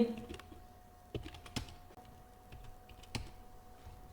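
Typing city names into an Excel spreadsheet on a computer keyboard, a few soft, sparse key clicks spaced irregularly over a quiet background with a faint steady hum.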